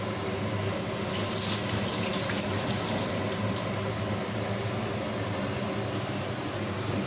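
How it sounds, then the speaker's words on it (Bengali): Tap water runs steadily from a faucet as hands are washed at a sink in a home kitchen, a continuous close splashing hiss with no talk. "হাতটা ধুয়ে দিই।"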